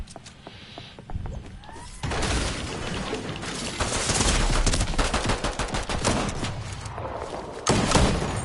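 Video game gunfire crackles in dense, rapid bursts, building from scattered shots into sustained heavy firing with a loud final burst, close and continuous, no talk over it.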